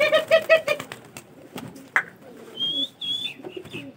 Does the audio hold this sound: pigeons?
yes